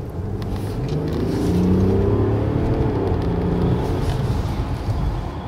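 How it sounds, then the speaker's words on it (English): A 2018 Mercedes S350 d diesel sedan accelerates hard at full throttle, heard from inside the cabin as a steady engine roar that swells and holds with some road and wind noise, with no talking. "I will just floor it a little."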